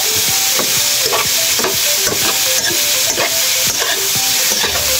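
Steady stirring and scraping in a pot of boiled piglet pork adobo, with repeated clanks of a utensil against the metal over a constant sizzling hiss, close and loud with no talk.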